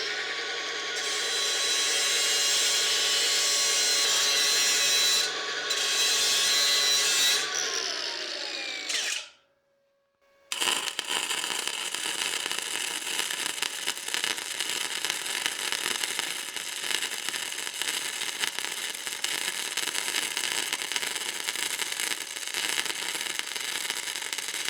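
An Arcaptain MIG200 MIG welder lays a bead on steel for a maple sap collection trailer built from an IBC tote. It gives a steady, loud crackling hiss that stops briefly for about a second, then resumes and runs continuously.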